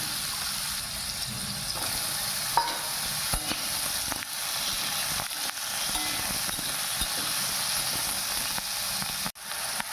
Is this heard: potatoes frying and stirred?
yes